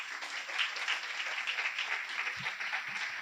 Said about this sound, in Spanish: ahora ya sí que es momento de recibir a Pepe Fajardo con un fuerte aplauso